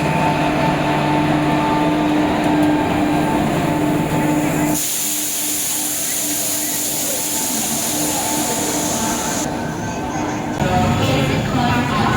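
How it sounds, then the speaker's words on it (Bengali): An Arrah–Kolkata Garib Rath Express rolls into Bakhtiyarpur station at night, heard from inside a coach as a loud, continuous rumble and hiss that shifts abruptly in tone as the train slows. "আমাদের ট্রেন আরা কলকাতা গরিব রথ এক্সপ্রেস বেখতিয়ারপুর স্টেশনে ঢুকছে।"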